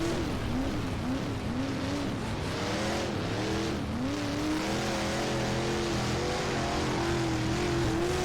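Dirt modified race cars in the rFactor 2 racing game roar around the track, a loud continuous engine drone with shifting pitch as several cars rev and sweep past, with no talking over it.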